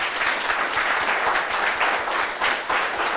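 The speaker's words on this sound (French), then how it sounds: "On l'applaudit très très fort." Steady, moderately loud applause from an audience greeting a guest at a youth political talk event in Koumassi, continuous claps without pause and no voices over them.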